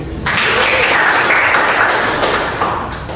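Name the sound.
applause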